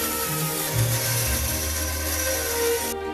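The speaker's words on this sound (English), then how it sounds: "I'll refine it a little bit more on the bandsaw" A bandsaw cuts a chunky wooden screwdriver handle down to size, giving a steady, close whir with a rasping cutting tone that holds throughout and drops away at the very end.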